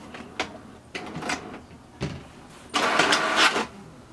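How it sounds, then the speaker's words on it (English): HP Deskjet 3752 inkjet printer working through a page: short mechanical whirs and clunks in an uneven rhythm, then a louder sustained grinding feed run, close by with no talking. "we click on the print option and wait for the printer to work."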